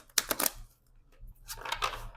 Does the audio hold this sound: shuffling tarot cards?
yes